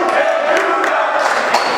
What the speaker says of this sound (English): I love that cheer